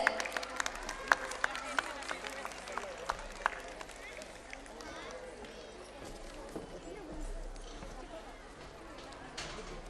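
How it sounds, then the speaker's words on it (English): Audience applause for a guest at a school annual day function, a steady wash of clapping at moderate distance across the whole stretch, with a few sharper claps standing out early on. "So give a big round of applause for the Devraj sir."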